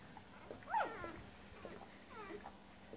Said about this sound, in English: Happy little puppies.